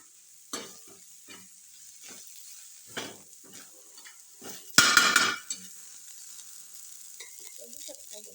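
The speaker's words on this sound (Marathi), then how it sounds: "व्यवस्थित मिक्स करूया आता आपण हे चटणी." A spoon mixes chutney in a dish, giving a run of separate scraping strokes, with one louder, longer scrape near the middle. The strokes are close and clear, with no speech.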